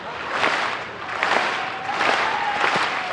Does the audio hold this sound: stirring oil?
no